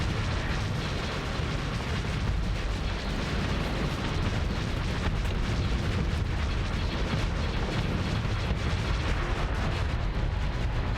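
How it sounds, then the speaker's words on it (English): Missiles launch and detonate in a Starsector space battle, giving a dense, continuous rumble of booms and blasts that stays loud and unbroken throughout, with no talking. "Look at the missiles coming off of him."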